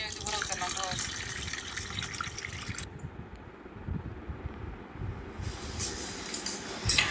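Water is poured from a vessel over washed chana dal to soak it, a steady splashing rush that stops midway and then starts again, heard up close.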